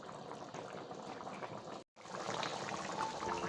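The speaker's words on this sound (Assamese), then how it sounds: "এয়া মাংস পুৰা ধুনীয়া হৈছে, ধুনীয়াকৈ উতলি আছে।" Meat curry simmering in a cooking pot, a quiet continuous bubbling and gurgling that breaks off for a moment and then carries on alone.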